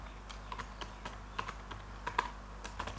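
Computer keyboard typing, quiet and close, a scattered run of light key clicks with short pauses between them, no talking.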